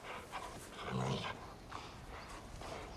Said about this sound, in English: Big old dogs.